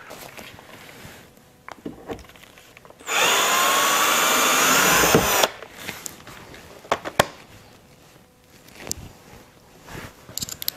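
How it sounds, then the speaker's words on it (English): Power drill widening a screw hole to 9/64 inch while fitting BMW i8 side skirts, with one loud steady whine lasting about two and a half seconds and a few handling clicks and knocks before and after. "gonna have to drill a bigger hole for this screw in the back"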